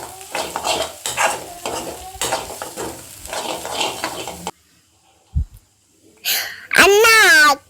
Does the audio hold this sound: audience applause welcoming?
no